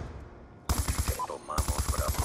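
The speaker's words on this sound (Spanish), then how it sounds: "este tipo de ametralladora a la ligera, la MK48" MK48 light machine gun firing in a first-person shooter, two rapid full-auto bursts of evenly spaced loud shots, the first about ten rounds and the second about eight, close and dominant.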